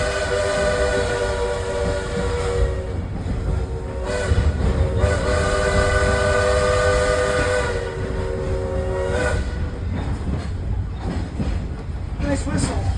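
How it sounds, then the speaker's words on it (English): A Shay steam locomotive whistle sounds in long, steady blasts over the heavy rumble and chuff of a passing train, loud and close, at the Illinois Railway Museum. "Nice whistle."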